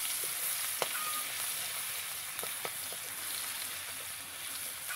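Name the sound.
onions frying in a pan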